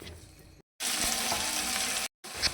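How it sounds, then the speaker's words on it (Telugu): Tomato pieces fry in hot oil in a pan with a loud, close, steady sizzle, broken by two brief silent gaps. "ఒక పెద్ద సైజు టమాటాను కట్ చేసి ముక్కలుగా వేసి వాటిలో వేసి నూనెలో కలుపుకోవాలి."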